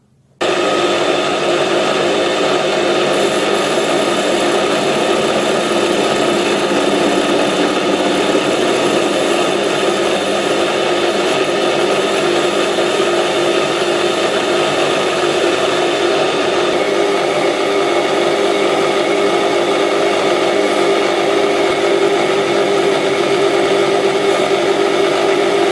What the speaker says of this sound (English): And now I'm going to do a facing cut, and after that chamfer things a bit.